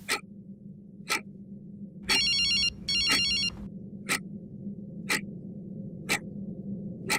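An old-style telephone bell rings in two bursts, surrounded by steady ticking clicks about once per second over a low background hum.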